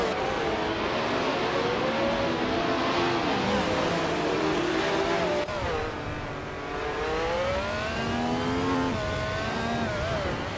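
Racing cars duel closely on a circuit, engines roaring loud and continuous with rising and falling pitch as they rev through turns, one pulling past near the middle.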